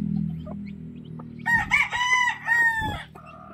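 Newly hatched chicks and chickens set down on the ground, with a few soft peeps, then a loud nearby rooster-like crow and clucking calls rising and falling for about two seconds.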